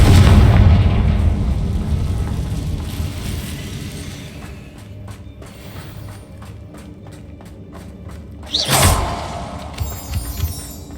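Fiery explosive spell blasts in Hogwarts Legacy, a loud booming rumble that fades, then a quick run of rhythmic ticking and a second sharp burst near the end.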